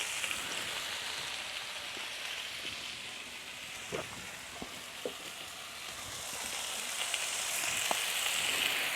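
Bacon sizzles steadily on a Blackstone griddle, a continuous bright frying hiss with a few sharp pops and crackles scattered throughout, close and unaccompanied by talk.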